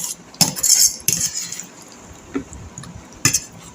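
Shrimp mash for chingri bhorta being mixed by hand in a bowl: short bursts of metal utensils clinking and scraping against the dish, separated by quieter pauses, with no talking.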